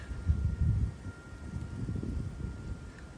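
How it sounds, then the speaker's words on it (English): Wind blowing outdoors in a backyard in East Tennessee, a low rumbling gusty buffeting on the microphone, stronger at first and then easing to a steady faint roar, with no voices. "I'm sure the wind is terrible."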